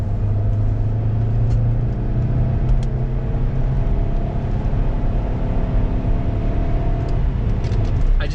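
A salvage Saab 9-5 with a straight-piped exhaust drones steadily while driving, a low continuous rumble holding close and even throughout with no break.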